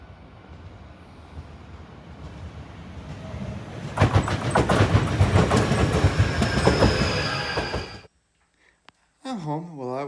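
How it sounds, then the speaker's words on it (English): A train rushes past at close range beside the tracks in Japan, a loud burst of wheel clatter and rumble that swells from a low background and cuts off abruptly, followed by a brief quiet gap and another sound. "Here comes the train and I'm close by the tracks."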